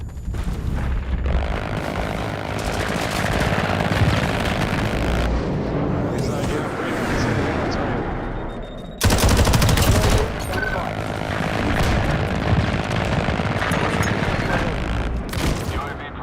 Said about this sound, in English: Enemy shots fired